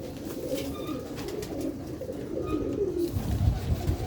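Pigeons coo in a loose series of soft, low throaty calls at close range, with no voices over them.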